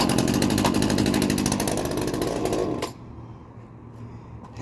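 A cheap secondhand chainsaw on full choke fires and runs with a loud, buzzing two-stroke rattle close up for about three seconds before abruptly dying down to a low idle-like murmur.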